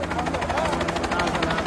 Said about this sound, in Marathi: जे लोक इथे अडकलेले आहेत त्या लोकांच्या रेस्क्यूसाठी आता अशी हेलिकॉप्टर या ठिकाणी पोहोचत आहेत